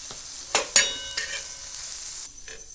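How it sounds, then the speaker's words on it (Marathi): Green chilies land on a hot iron griddle and sizzle softly, with a couple of sharp clinks and scrapes from stirring before the crackle quiets down. "आता या मी मिरच्या तव्यात टाकणार"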